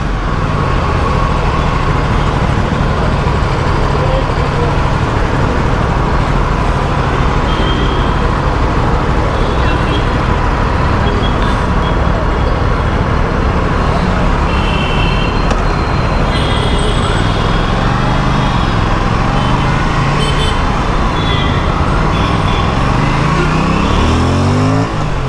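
An Aprilia RS457 motorcycle ridden on the road just after its first service, a constant loud engine and wind roar with shifting revs and passing traffic, close to the rider.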